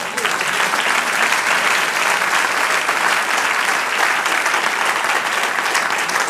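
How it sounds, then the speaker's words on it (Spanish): A church congregation applauds steadily and loudly, a dense wash of clapping hands that holds at an even level for several seconds without a break. "Denle un aplauso al Señor."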